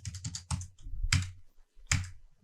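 Computer keyboard keys are pressed in a close, quick burst of clacking taps, then after a pause come a few separate heavier keystrokes.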